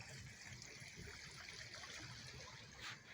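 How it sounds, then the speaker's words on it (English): Water pours steadily at a waterfall beside a riverside spot, a continuous close rushing wash with a soft trickling edge and no break. "Listen to the water, guys."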